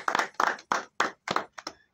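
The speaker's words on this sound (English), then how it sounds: "Please, on that, let's clap for her again." An audience claps in a brief, rhythmic burst of about seven close, crisp claps lasting two seconds, with no talking.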